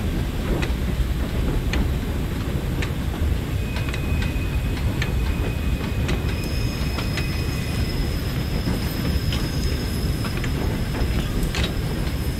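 A steam train on the Crewe to Runcorn line in Train Sim World rumbles loudly and steadily. Sharp clicks and thin squeals from the wheels ride over the constant rolling noise, with no voices.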